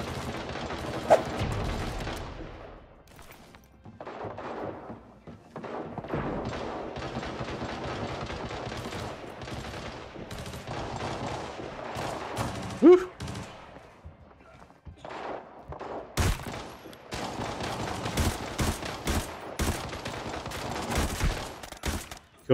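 Video game gunfire rattles in dense bursts and single shots throughout, with occasional booms, some loud and some more distant.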